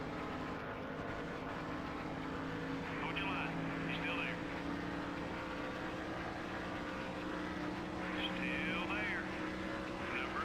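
Race car engine in the video game NASCAR Thunder 2003, a steady droning whine held at high revs throughout, continuous and moderately loud.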